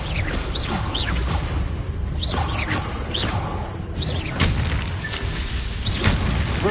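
Confringo fire-blast spells in Hogwarts Legacy: repeated whooshing bursts and booms over dense, continuous combat noise with rumbling and mechanical clatter.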